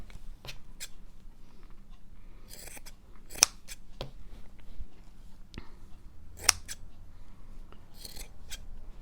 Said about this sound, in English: I wonder if the scissors are really loud now in the microphone.